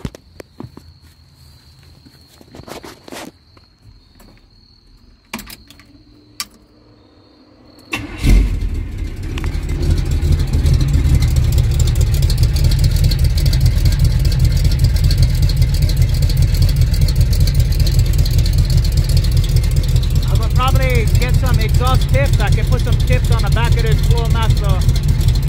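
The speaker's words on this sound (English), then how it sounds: "The truck sounds much better." A truck engine just back from exhaust and valve work starts after some faint clatter and settles into a loud, steady, close run. A brief voice cuts in near the end.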